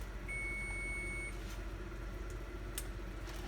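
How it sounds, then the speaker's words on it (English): A kitchen timer for roasting acorn squash gives a single thin, steady electronic tone of about a second. It is faint against a low kitchen hum. "That is the timer for our acorn squash"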